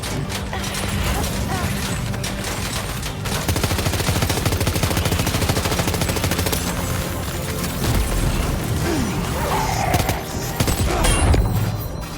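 Dense, sustained gunfire from Death Stranding 2 rattles on for the whole stretch, rapid automatic bursts with heavy booms mixed in, loud and close, with brief voices cutting in over the barrage.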